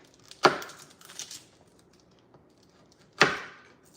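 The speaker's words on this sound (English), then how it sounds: "I'm gonna do the garlic." Garlic being chopped for chili oil: two sharp, close knife strikes on a board a few seconds apart, with faint handling noise between them.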